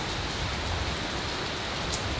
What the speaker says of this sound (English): It's a whole lot of rain right now.